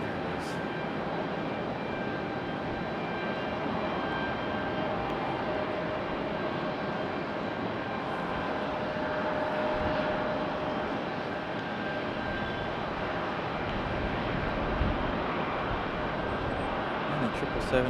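A Boeing 777 jet airliner taxis to its gate at Raleigh-Durham airport, a steady distant engine rumble and whine lasting throughout, with someone talking over it now and then.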